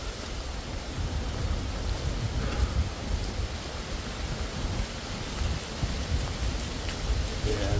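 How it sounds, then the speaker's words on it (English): Steady rain patters on tree leaves, a dense, continuous hiss of drops close by, with occasional heavier splats and no voices. "Rain's starting to sneak through the leaves now."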